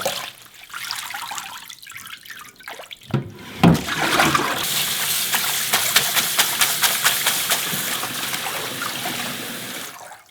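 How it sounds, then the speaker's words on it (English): Chives washed by hand in a bowl of water for chive kimchi, starting with quiet handling and then a steady run of splashing, sloshing and dripping with rhythmic swishes, close and moderately loud. "So a couple of times until the water is very clear and all the dirt is gone, just wash thoroughly."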